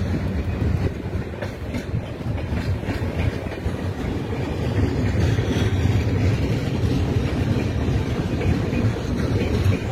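The Vivek Express, a long-distance Dibrugarh–Kanyakumari train, runs on the rails with a steady loud rumble and rhythmic clickety-clack of wheels over track joints, heard from on board with no talking.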